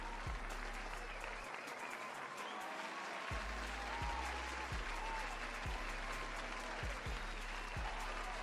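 Sustained applause from an audience fills the whole stretch, dense and steady, with low thumps underneath.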